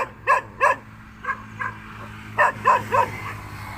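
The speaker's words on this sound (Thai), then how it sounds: "หมาก็เห่าแอดมินแล้วเกินนะท่านผู้ชม" A dog barks in a series of sharp, mid-distance woofs, two quick barks, then two softer ones, then a closing burst of three, with a low steady hum beneath and no talking.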